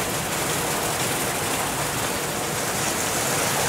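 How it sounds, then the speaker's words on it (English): Steady rain falls on a Florida insect farm, a dense, even hiss of drops on surfaces that holds constant throughout with no voices. "Holy cow, it's raining."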